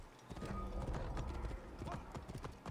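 Horse hooves clip-clop in a quick, steady rhythm in Assassin's Creed Origins, a riding gait heard up close and fairly soft, with a faint snort-like sound mixed in.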